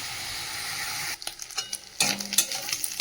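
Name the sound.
prawns frying in a pan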